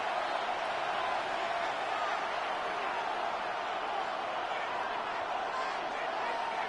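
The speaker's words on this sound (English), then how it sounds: "This crowd turning up the decibel level." Steady, dense crowd roar from a Madden NFL football video game late in a tight fourth quarter with the Patriots playing, a continuous broadband wash at even loudness throughout with no distinct voices standing out.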